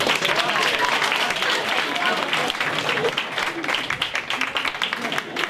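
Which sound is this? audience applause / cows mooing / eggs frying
audience applause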